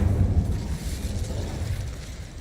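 The Incendio fire spell is cast in the video game Hogwarts Legacy, a loud, rumbling whoosh of flame with a deep, sustained roar that slowly eases off.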